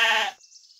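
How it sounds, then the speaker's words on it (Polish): A sheep bleats once, a loud close wavering cry that breaks off into a brief thin high tail. "A wiecie, jaki odgłos wydaje owieczka?"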